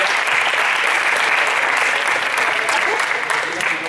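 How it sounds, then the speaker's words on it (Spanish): Sustained audience applause at an awards moment after a Trojan Horse themed game, dense steady clapping filling the whole stretch at even loudness, no voices over it. "yo quiero pedir un aplauso para Paula por estos pedazos de premios."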